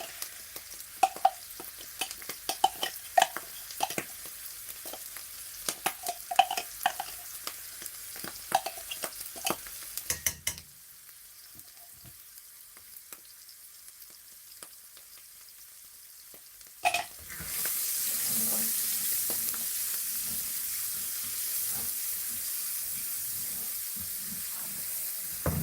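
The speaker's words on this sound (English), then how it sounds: "now I'm going to just fry this garlic ginger" Garlic, ginger and lemongrass frying in oil in a pan, a soft sizzle with light stirring and scraping at first, then a louder, steady hiss of frying near the end.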